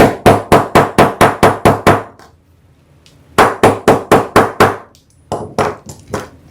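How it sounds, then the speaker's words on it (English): A small hammer taps sharply on a metal snap fastener set into fabric in quick, even bursts: eight strikes, a pause, six more, then a few lighter taps, close and crisp. "I just use a little hammer."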